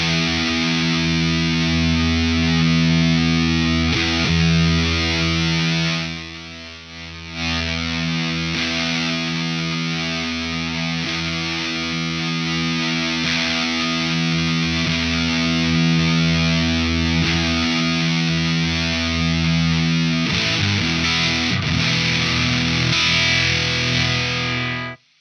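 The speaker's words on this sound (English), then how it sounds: "It's a killer fuzz sound." Thick, buzzing electric guitar through a Lunastone Red Fuzz 1 pedal sustains chords loudly and continuously, with a brief dip partway through and a shifting, swept tone toward the end.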